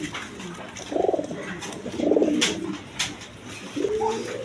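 High-flying Giribaz pigeons coo in a series of soft, rolling calls, three or four separate bursts spaced a second or so apart, close by and fairly loud, with no talking.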